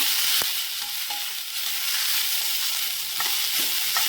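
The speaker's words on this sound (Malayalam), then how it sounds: "ചേർത്ത് കൊടുത്തൊന്ന് വഴറ്റിയെടുക്കാം." Cabbage and other vegetables for veg Hakka noodles sauté in a pan with salt, giving a continuous hissing sizzle and occasional sharp clicks of a utensil against the pan.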